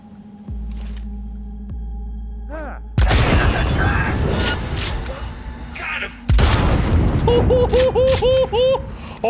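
A weapon firing in the video game Cyberpunk 2077: two loud, abrupt blasts that cut in over a low electronic hum, each followed by a crackling, ringing tail and chirping tones.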